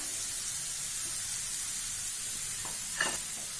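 Capsicum and onion sautéing in a pan for a chicken fry: a steady, soft sizzle runs throughout with a slight stir or clatter near the end, no voices.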